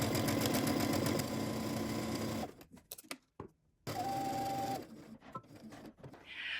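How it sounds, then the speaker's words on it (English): A sewing machine stitches the seam of a dress strap with a short, quiet burst of rapid mechanical chatter, followed by faint handling noises and near-silence. "we're going to head to the sewing machine and we're going to stitch this"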